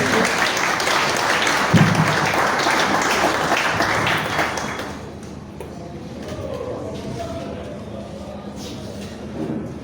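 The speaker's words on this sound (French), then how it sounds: "je demanderai vos applaudissements, s'il vous plaît" Audience applause at a fraternity New Year greetings ceremony, a loud dense crowd clapping for about five seconds before fading into quieter room noise and murmuring.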